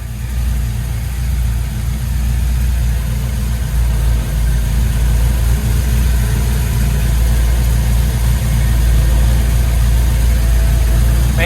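A Chevrolet C10 truck with a swapped LS V8 idles loudly and steadily, running a little rich, with new tailpipes fitted; a deep, continuous rumble with no pauses and no talking.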